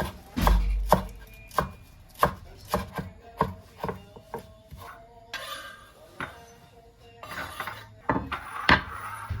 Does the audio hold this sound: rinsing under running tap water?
no